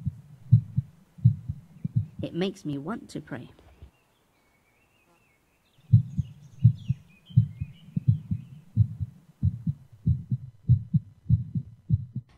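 Rhythmic double-thump heartbeat sound effect, steady and low, pausing briefly while a voice speaks, then resuming with regular pulses.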